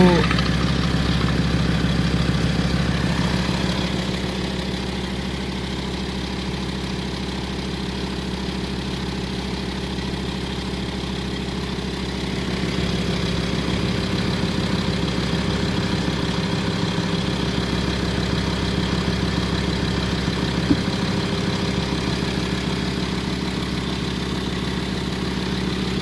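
A VW Touareg 2.5 TDI diesel engine idles with a knocking, rattling fault, giving a continuous, close, steady running drone that holds level throughout with only slight shifts in loudness.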